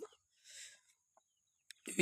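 Laying hens on a poultry farm give a few short clucks and scattered calls, quiet and spaced out with long silent gaps, ending in a louder burst of mixed noise.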